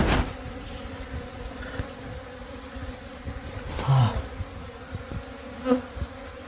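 Bees regathering around a nest after being smoked, a steady, fairly faint buzzing of many insects with individual bees droning louder as they fly close past.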